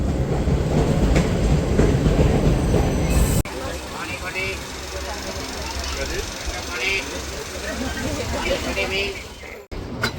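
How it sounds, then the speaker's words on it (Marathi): Steady rumble and rattle of the Jabalpur Express pulling away toward Mumbai, with clacking wheels and a crowd murmuring inside the carriage; a brief jolt partway through. "तर मित्रांनो ट्रेन आता निघालेली आहे मुंबईच्या दिशेने"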